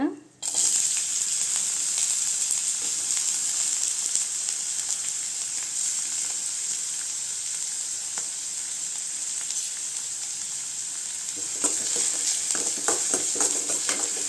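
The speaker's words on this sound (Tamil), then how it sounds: "க்ளீன் பண்ணி வச்சுக்க பிறந்தி அதில் போட்டு நல்லா வதக்கிக்கலாங்க" Cleaned pirandai (adamant creeper) frying in hot oil in a pan for Tamil pirandai kulambu, a continuous bright sizzle with occasional stirring scrapes near the end, no talking.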